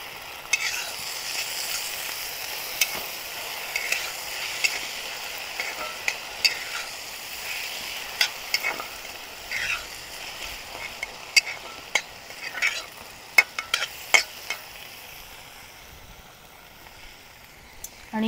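Soaked moong dal frying in a pan with bharangi leaf vegetable gives a steady sizzle, broken by repeated scraping clicks of a spoon stirring against the pan, close and clear, with no talk.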